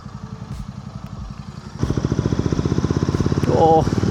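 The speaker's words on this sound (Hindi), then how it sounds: "Oh, this bike sound so good." A Royal Enfield GT 650 motorcycle with a performance exhaust and stage 2 air filter idles with a throaty, pulsing exhaust, then revs louder and rougher, with a brief high whine near the end.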